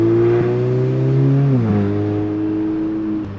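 A VW Golf R fitted with an IE Stage 2 tune and a Remus exhaust, set to race mode, pulls away with a loud, steady engine drone that climbs through the revs, steps down briefly at a gear change, then keeps building.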